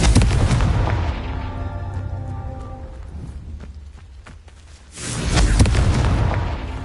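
The Confringo blasting curse explodes in a Harry Potter video game: a heavy, rumbling blast that fades away, then a second loud burst of explosion noise.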